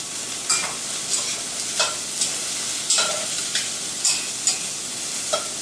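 Onions frying in a pan and being stirred until brown, with steady sizzling broken by a scrape of the spoon about once a second, close and alone.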